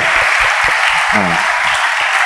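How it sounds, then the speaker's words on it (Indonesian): A congregation at a school revival service at SMA Kristen Kalam Kudus Pematangsiantar gives a visiting evangelist from Medan a dense, steady round of clapping, loud and close, with a faint voice briefly heard through it. "kita berikan tepuk tangan untuk beliau yang sudah datang dari Medan"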